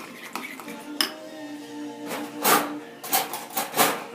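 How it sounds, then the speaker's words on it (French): A utensil scrapes and clinks against a metal pan while a sauce for homemade burgers is stirred, close up, with several sharp metallic knocks and rattles spread unevenly over a few seconds. "Donc, je commence à remuer."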